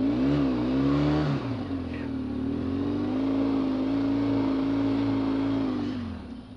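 An off-road vehicle stuck in mud revs its engine hard, a loud sustained roar that dips and rises as the wheels spin, then fades at the end.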